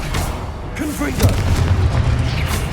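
A deep booming blast from the Confringo spell in Hogwarts Legacy rumbles over a spoken incantation, followed by a sustained low roar of the explosion.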